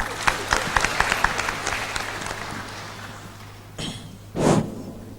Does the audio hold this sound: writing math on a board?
no